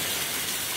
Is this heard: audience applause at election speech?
no